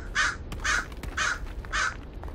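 A crow caws four times in the WW2 Rebuilder video game, each call a harsh, evenly spaced squawk standing out clearly over a quiet background.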